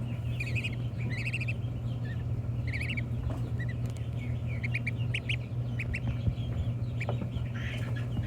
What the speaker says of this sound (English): He's making little chirping noises.